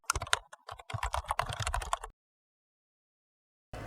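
Fingers tap out a number on a phone keyboard in quick, uneven bursts of clicks for about two seconds, then silence before a brief rush of noise at the end.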